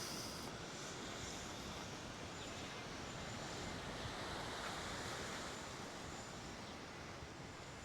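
Steady wind roars across the microphone on the Mallorca coast at Cala Sant Vicenc, a dense, unbroken rush with a hint of surf underneath and no voices.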